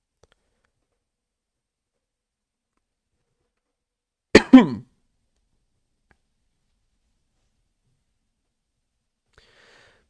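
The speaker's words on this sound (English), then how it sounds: "I'm coughing." One short cough breaks the quiet, a single close burst with a little throat rasp, with near silence before and after.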